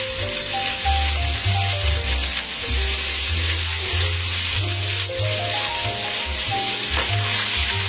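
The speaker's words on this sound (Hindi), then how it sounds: "अब इसके बाद इसी ऑयल के अंदर मैं डाल रही हूँ ग्रीन चिली और साथ ही ग्रीन अनियन का व्हाइट पार्ट," Green chili and the white part of green onion sizzling in hot frying oil in a pan, a steady, loud, close hiss that continues throughout without pause.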